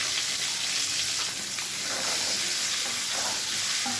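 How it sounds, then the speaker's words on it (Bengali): Eggs fry in oil in a kadai with a steady, close, bright sizzle and hiss, a continuous crackle interrupted only by faint stirring scrapes. "আমি ডিমগুলো দিয়ে দিচ্ছি, একটু লাল লাল করে ভেজে নেব"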